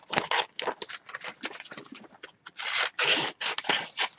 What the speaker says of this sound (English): Let's cut the fur picture out.